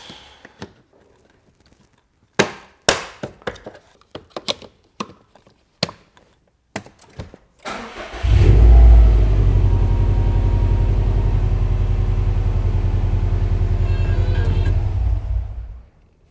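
Right-hand-drive 2015+ Subaru WRX STI started by a newly fitted JDM push button: a scattering of sharp clicks and taps, then the engine cranks and catches about halfway through, settling into a deep, loud, steady idle rumble.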